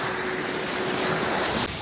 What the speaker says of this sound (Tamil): தண்ணி மோட்டர் ஓடுது பாருங்க